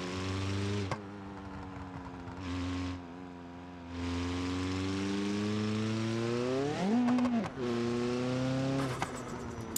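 Car engine in BeamNG.Drive, a front-wheel-drive drag car, idling with a low drone then revving in repeated rising pulls, the pitch sweeping up and falling back between short pauses, loud and close.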